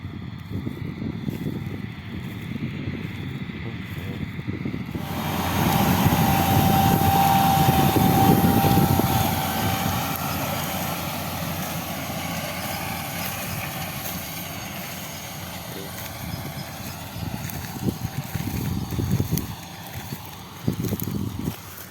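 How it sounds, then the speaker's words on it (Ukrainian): A John Deere 1890 seed drill, drawn by a tractor, sows wheat across soft field soil, its steady engine drone and rumble swelling as it passes nearby, then staying strong outdoors over a light background hiss. "Так що робимо так, он їде сівалка наша."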